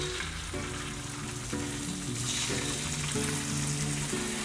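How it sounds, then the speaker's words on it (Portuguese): Salmon skin frying skin-side down in a hot pan gives a steady, close sizzle throughout, with faint stirring or scraping clicks and no voices. "E agora eu vou fritar esse salmãozinho aqui, essa pele de salmão"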